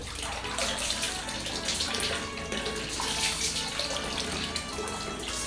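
A faucet pours steadily and loudly into a sink while someone rinses their face during a nighttime skincare routine, a continuous full splashing rush with no pauses.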